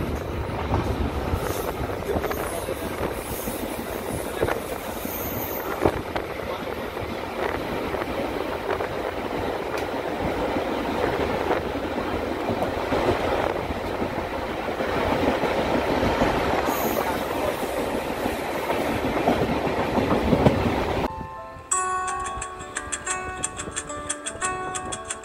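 A train rolls steadily along the track just after leaving a tunnel, a continuous rumble with rhythmic clatter. It cuts near the end to a quieter, different background.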